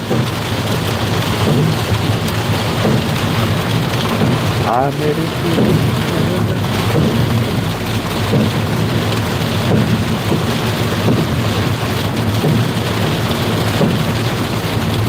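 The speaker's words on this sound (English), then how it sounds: "Hopefully the rain is drowning out my voice." Heavy rain pours down in a thunderstorm, a dense, steady roar with a low rumble of thunder underneath, while a voice speaks briefly and faintly beneath the downpour.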